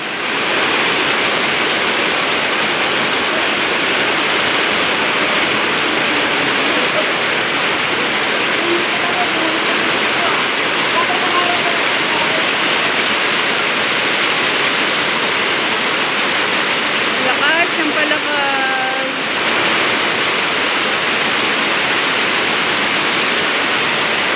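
Heavy afternoon downpour in Pinugay, Baras, Rizal: a loud, unbroken roar of rain close by, with a voice speaking briefly over it near the end.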